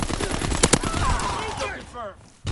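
Rapid submachine-gun fire in a first-person shooter video game crackles in a dense burst, then a voice talks over the fading game noise.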